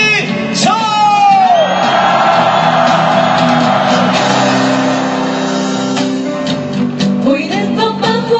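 A crowd at a Wednesday protest rally roars together in one long loud shout, swelling quickly and holding for several seconds before trailing off into scattered voices and whoops.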